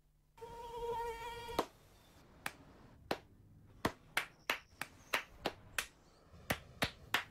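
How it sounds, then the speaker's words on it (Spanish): A mosquito whines close by for about a second, followed by a rapid, irregular string of sharp, loud hand claps, as if someone were trying to swat it. "No aplaudamos al mosquito, combatámoslo en serio."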